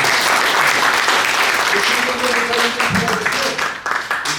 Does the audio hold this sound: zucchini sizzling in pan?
no